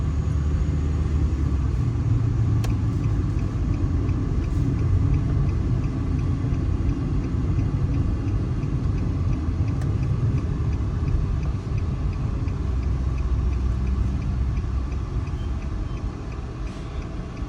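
A car engine idles and rumbles steadily while the car is parked, a continuous low drone with faint ticking throughout, no voices.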